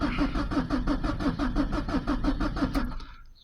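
A Peugeot 306 1.9 diesel cranking without firing: a loud, close starter motor churns in a fast even rhythm for about three seconds, then cuts out as the engine fails to catch.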